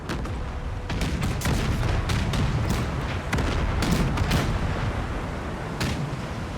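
A naval cannon broadside in the Empire 2 Total War video game booms out as a dense, continuous barrage of overlapping gunfire blasts, loud and sustained throughout.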